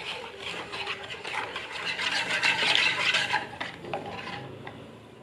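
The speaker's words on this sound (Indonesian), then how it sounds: "Tuangkan sebagian susu ke campuran kuning telur. Campur hingga rata." Milk is stirred into an egg yolk mixture in a bowl for chocolate eclair filling, a soft continuous scraping and swirling with faint utensil clinks, close and fairly quiet.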